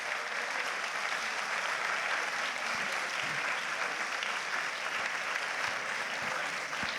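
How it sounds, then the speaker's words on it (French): A conference audience in Saintes applauds the Soroptimist organisers with sustained, even clapping from a sizeable crowd, holding steady and full for several seconds with no speech over it. "Je voudrais aussi qu'on puisse applaudir les Soroptimistes de Saintes qui ont construit cette conférence"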